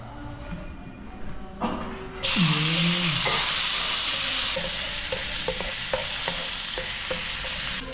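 Garlic hits hot oil in a pan with a sudden loud sizzle that settles into a steady, close frying hiss, broken by occasional stirring clatter.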